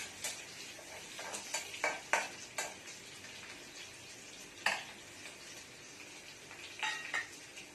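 Crushed garlic and chopped green chillies fry in a pan for katla fish curry, a soft steady sizzle broken by several sharp clinks and scrapes of a spoon stirring against the pan, with no talk.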